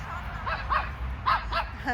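A dog gives around five short, sharp barks spaced over two seconds against a background of outdoor noise, with no clear speech.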